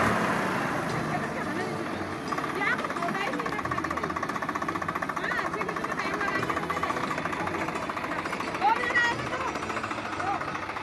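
A tractor engine runs loud and close as the tractor drives down to plough the lower fields, a continuous chugging roar that holds steady throughout.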